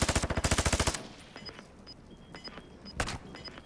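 Gunfire in Warzone 2, opening with a rapid loud burst of about a dozen shots, then scattered single sharp cracks and a heavy shot near the end, fairly close.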